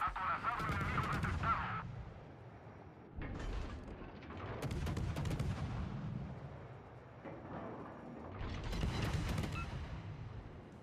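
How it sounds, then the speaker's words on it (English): Warship main guns firing in the naval game World of Warships, several heavy booming salvos spaced a few seconds apart with rumbling tails, loud and close, with a voice speaking faintly underneath. "We'll hit him now with my main guns and get a double fire"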